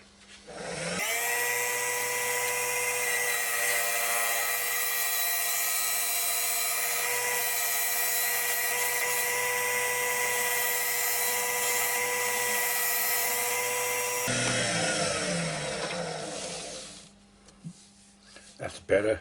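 Wood offcuts for a vase spinning on a lathe while a tool trims them, a steady high whine lasting about fifteen seconds before winding down, followed by a few faint knocks.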